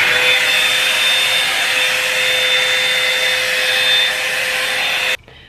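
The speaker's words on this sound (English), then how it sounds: "I'm gonna dry my hair really quick" A hair dryer blows steadily with a bright whining hum, drying hair at close range, running continuously for about five seconds before switching off abruptly.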